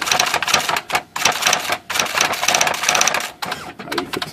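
A repaired IBM Wheelwriter 6 electronic typewriter with a fixed hammer plunger prints a line, giving fast, loud, close clattering strikes in dense bursts with short gaps and no talk.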